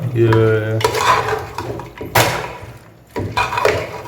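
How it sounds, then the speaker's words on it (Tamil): Chicken being stirred in a pot for a bottle gourd gravy, with close metallic scrapes and clanks of a utensil against the pot in bursts, over a steady low hum. "இப்போ வந்து மிக்ஸ் பண்ணுறாரு"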